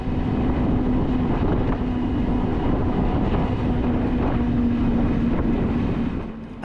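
A Swiss luxury train climbs through the snowy Alps between Chur and its next stop, a steady, continuous rumble of wheels and carriage noise heard from inside, with a faint sustained hum throughout.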